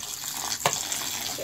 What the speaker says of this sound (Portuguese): Agora vou lavar em água corrente